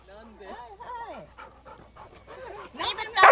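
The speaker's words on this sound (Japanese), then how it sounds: "なんで ロックも吠えられると吠え返してしまいますね" An angry dog barks and pants in rapid, uneven outbursts close by, with excited yelps and whimpering cries mixed in and getting louder toward the end, while people talk around it.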